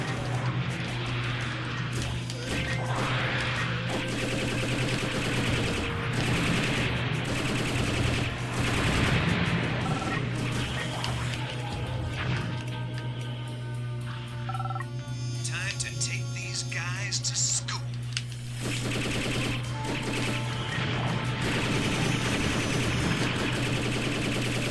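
Continuous shooting at targets in the Robotech Battlecry video game, a steady stream of shots over a constant low electronic hum, sustained and fairly loud throughout with little pause.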